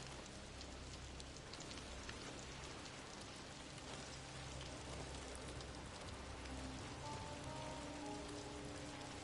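Rain in the video game Ghost of Tsushima, a steady dense hiss of drops falling on surfaces, faint and continuous throughout with no speech.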